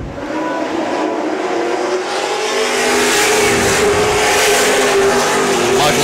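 A race car engine roars loudly and steadily up close as the car slides sideways during a race, with a continuous rising whine and a dense wash of track noise.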